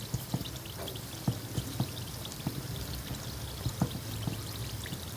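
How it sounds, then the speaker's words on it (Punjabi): Atta biscuits frying gently in moderately hot oil, a soft steady bubbling hiss with scattered light pops and crackles, close and continuous with no talking. "ਹਲਕੇ ਹਲਕੇ ਬਬਲਸ ਬਣਦੇ ਆ ਤੇਲ ਦੇ ਹੁਣ ਪੈਨਾਂ ਨੂੰ ਹੌਲੀ ਹੌਲੀ ਫਰਾਈ ਕਰਾਂਗੇ"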